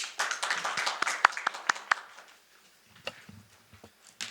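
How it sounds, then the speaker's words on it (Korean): Audience applause at a Korean quantum computing panel discussion forum, a burst of clapping for about two seconds that quickly thins out into scattered faint claps. "큰 박수 부탁드리겠습니다."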